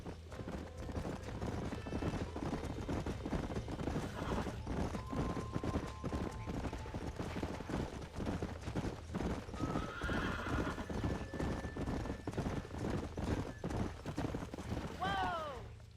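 Horses trot across the Red Dead Redemption game world with a steady rhythm of clip-clop hooves, loud and close, broken by a couple of whinnies and neighs, with faint game sounds underneath.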